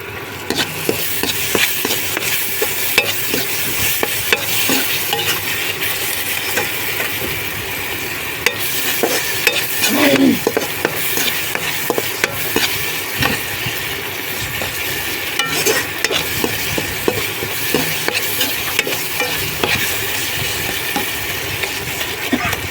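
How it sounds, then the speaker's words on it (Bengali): Masala spices being sautéed in a pan for paneer pulao, a dense sustained sizzle and frying crackle with frequent scraping, stirring clatter of a spoon against the pan, close and fairly loud throughout. "মশলাটা একটু কষবে, একটুখানি মশলাটা কষবে।"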